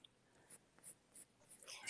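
Fine lines are drawn on paper with light, scratchy strokes that come in a few separate faint passes, ending in a slightly louder scrape.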